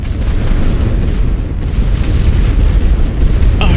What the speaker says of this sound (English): Artillery's going to be coming.